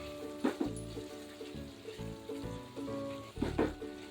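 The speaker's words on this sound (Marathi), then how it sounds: "मी आता एक टोमॅटो घालणार आहे टोमॅटो घालून छान परतून घेऊया" A tomato goes into a pan of cooked potato and cauliflower and is sautéed, giving a steady low sizzle with a few sharper bursts of frying noise near the start and end.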